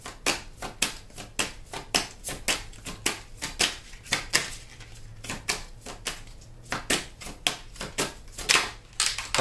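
A tarot deck is shuffled quickly by hand, making a rapid string of sharp, crisp riffling clicks and flutters in close bursts, with no talking over them.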